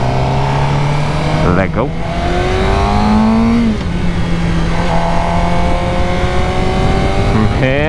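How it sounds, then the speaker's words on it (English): A Suzuki GSX-R 600 sport bike revs and accelerates while ridden, its engine climbing in pitch through quick gear changes, loud and close, with wind rush and a voice talking over it. "driving a bike, riding a motorcycle"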